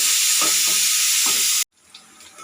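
Curry leaves fry in hot oil for carrot rice, a loud, steady sizzle lasting about a second and a half before cutting off abruptly to a quiet room.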